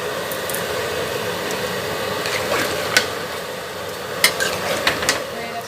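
Ghee goes into a large pot of vegetable curry cooked for about 200 people at a Lakshmi puja, giving a soft steady sizzle with a few metallic clinks and scrapes of a ladle against the pot.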